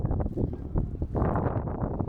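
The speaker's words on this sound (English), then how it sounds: "You can hear it's really windy on a bridge in between houses." Heavy wind on a bridge between houses in Amsterdam rumbles and thumps against the microphone in uneven gusts, loud and close, with no talking.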